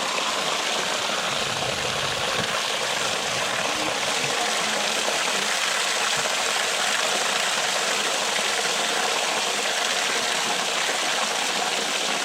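Steady rushing water flows continuously through a pump line with trapped air, a broad hiss and faint low hum beneath, unchanging throughout, with no voices.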